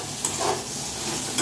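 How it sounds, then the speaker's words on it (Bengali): Bitter gourd and potato fry in a pan with a close, steady sizzling hiss and faint stirring scrapes, heard briefly and without speech. "আর এখানে আমি উচ্ছে আলু ভাজা বসিয়েছি"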